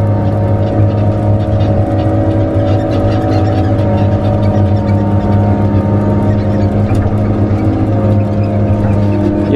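A Tigercat skidder's engine is held wide open at full throttle while pulling trucks, a loud, steady, close diesel drone with a constant rumbling pitch and no pauses.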